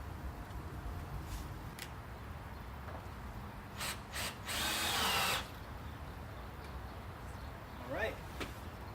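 A power drill drives a screw into the wooden frame of a backyard chicken coop in one short burst, close and fairly loud, with a few light knocks and brief voices around it.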